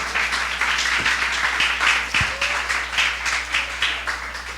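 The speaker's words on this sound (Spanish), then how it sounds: "un fuerte aplauso a las que preparan la colada" Congregation in a church service applauding, loud rhythmic clapping in a steady, pulsing beat as many hands clap together close by, with a faint low hum beneath.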